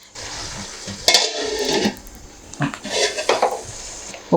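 A metal lid clanks down onto a pot of simmering fish curry with tomato gravy, two sharp clattering impacts about two seconds apart with rattling metal ringing after each, close by and without voices.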